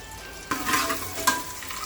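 Eggs fry in oil with turmeric and chilli powder, a low steady sizzle broken by two brief stirring scrapes of a spatula against the pan, close up and with no talk.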